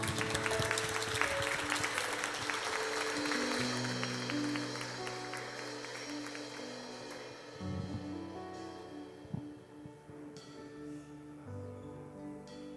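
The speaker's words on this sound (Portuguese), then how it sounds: "Vamos aplaudir esse Jesus." Church congregation applauding: clapping fades in over a sustained organ or keyboard chord, fairly quiet and tapering off as the music holds underneath.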